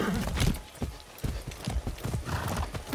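Horse hooves clip-clop at a steady walking pace in Far Cry 6, close and fairly loud, with a brief whinny near the start and no talk.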